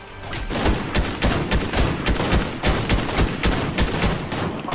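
Rapid video-game gunfire in Fortnite, with dense bursts of shots cracking in quick succession throughout, loud and close with no pauses.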